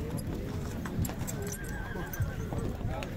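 A grey horse at a horse market near Bishkek, with hooves clip-clopping and a whinny amid crowd noise and people talking nearby.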